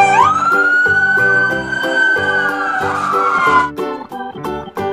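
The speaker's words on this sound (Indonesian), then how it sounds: "Di sini ada mobil polisi patroli" A police patrol car siren wails loudly and close, its rising tone holding steady before breaking off near the end, over a rhythmic music backing.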